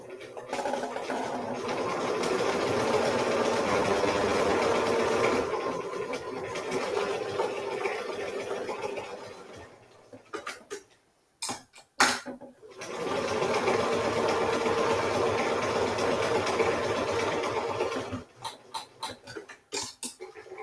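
A sewing machine runs a zigzag stitch around the edges of a small lavender bag, whirring steadily in two long close runs separated by a brief pause with a few clicks.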